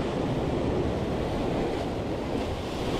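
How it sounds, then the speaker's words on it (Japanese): Sea waves surge and break steadily along a cold shoreline at a squid-fishing spot, a continuous roar of surf mixed with wind buffeting the microphone, with no pauses throughout. "結構波が来るのだ。"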